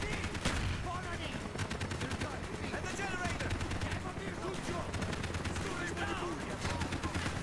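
Dense rapid gunfire fills a Call of Duty: Black Ops match, with bursts of automatic weapons and single shots running continuously at moderate loudness while a player talks over the action.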